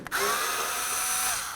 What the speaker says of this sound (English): Using a Phillips head screwdriver, we're going to remove these 4 Phillips screws.